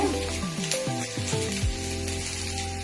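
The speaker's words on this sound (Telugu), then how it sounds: "వేపుళ్ళు ఏవైనా సరే అండి కొంచెం సిమ్లోనే తక్కువ అగ్గి మీద వేస్తేనే బాగుంటాయండి" Ivy gourd (dondakaya) fries in oil over a low flame, a steady close sizzle and crackle throughout, joined by some tonal kitchen hum early on.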